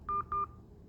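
Two short, evenly spaced keypad beeps as a PIN is entered on a phone during a call to an automated bank line, clear over a faint background hiss.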